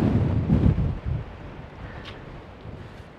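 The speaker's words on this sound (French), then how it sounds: "rien qu'à voir la houle, là, vous avez compris qu'il y a du vent" Strong sea wind buffets the microphone on the coast at Saint-Tropez in November, heavy rumbling gusts over the first second, then easing into a softer steady rush.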